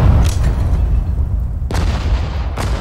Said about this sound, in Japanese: 鉄砲隊撃て。 目標に発砲せよ。